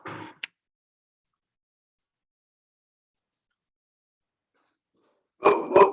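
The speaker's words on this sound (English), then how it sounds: "my dogs are barking, so I didn't hear you announce me." Pet dogs barking at home during an online call, one short bark at the start and then, after a long silence, a close double bark with a whimpering edge near the end.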